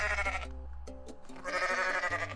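A goat in the Goat Simulator video game bleats in short, wavering calls, two or three in quick succession, loud and close over faint game background noise.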